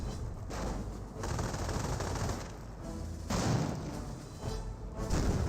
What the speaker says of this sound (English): Rocket grenades firing away.